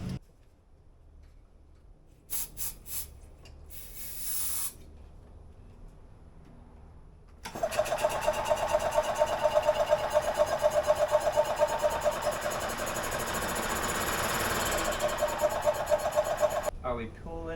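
A 2001 EZGO TXT gas golf cart, running on twelve-year-old fuel, gives a few short cranking bursts, then catches into a fast, steady ticking putter that runs loud and close for several seconds before cutting off.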